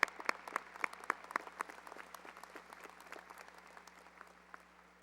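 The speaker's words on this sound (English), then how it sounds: "You can give them a round of applause." Light, scattered applause from a modest crowd at a high school graduation, individual claps audible as it gradually thins out.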